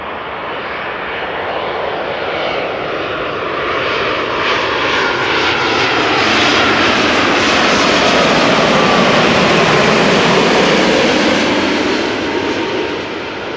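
A KLM Boeing 787-9 Dreamliner arrives up close at Amsterdam Schiphol, its loud jet roar building steadily and sweeping past with a rising, then falling whine over about thirteen seconds, with no voices.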